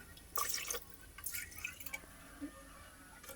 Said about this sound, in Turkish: Sosu için yağını, sütünü derin bir kaba alıyorum.